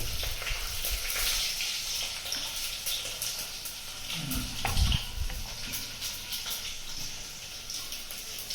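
Curry leaves hit hot oil in a pan while making spicy Maharashtrian chicken sukka, setting off a loud, dense sizzle full of crackles. A sharper burst comes midway, then the frying settles into a steady hiss. No voices are heard.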